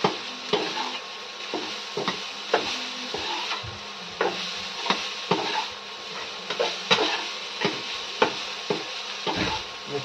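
Spinach and chana dal sabzi cooks in a pan, with repeated scraping and stirring strokes and a low sizzle running steadily underneath, fairly close and at moderate volume.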